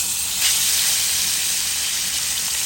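Rupchanda fish hits hot oil in a pan, giving a loud, steady, close frying sizzle and hiss with no break.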